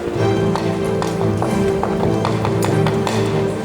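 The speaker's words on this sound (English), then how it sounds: "But we have now made it to our horse." Horse hooves clip-clop at a steady trotting rhythm on hard ground at a jousting tournament, close and fairly loud over a constant background hum and murmur.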